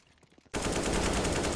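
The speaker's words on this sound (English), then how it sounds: "Skivo looking outside, picks off Unknown with a quick headshot." Counter-Strike match gunfire: after soft scattered clicks, a sudden loud sustained burst of rapid automatic shots fills the rest, dense and close.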